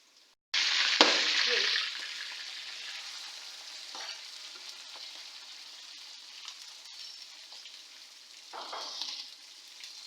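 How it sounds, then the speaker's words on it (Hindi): Green chillies fry in a pan for a karela-onion sabzi, starting with a loud burst of sizzle that settles into a steady crackle, with a brief flare of hiss again near the end. "अब हरी मिर्चों को फ्राई करूँगी थोड़ी देर के लिए।"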